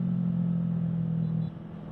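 An FKM Falcon X400 motorcycle engine idles low and steady, a close, even rumble that eases slightly partway through, with no voices.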